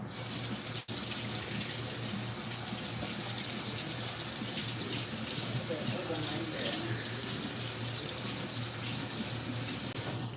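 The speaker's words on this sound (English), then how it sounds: "I'm gonna rinse my potatoes." Tap water runs continuously into a kitchen sink as potatoes are rinsed, a steady close gushing and splashing that is briefly broken by one sharp knock near the start.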